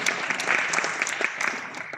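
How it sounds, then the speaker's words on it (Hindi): Audience applause at a mushaira poetry gathering, a steady patter of many hands clapping together, moderately distant and even throughout. "तो एक बार तालियां बजाकर अपनी मौजूदगी का ऐलान फरमा दीजिए"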